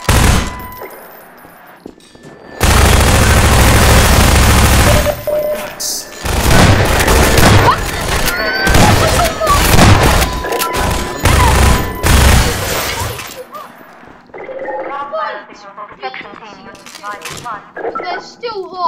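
Rapid submachine gun bursts and heavy shotgun blasts in Half-Life 2 combat, loud and dense for about ten seconds with clanging impacts, then tapering off into quieter game sounds and a voice talking.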